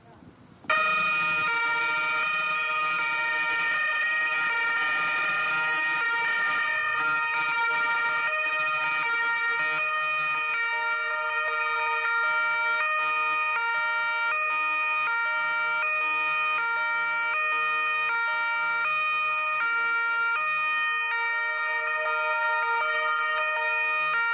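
Police vehicle sirens blare in a convoy escorting an arrival at a rugby stadium, a loud, sustained, steady tone that continues almost unbroken for the whole stretch.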